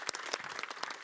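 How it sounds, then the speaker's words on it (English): Brief, faint scattered clapping from a small audience at a conference program, a few distinct claps heard alone over about a second. "So big round of applause for Christian."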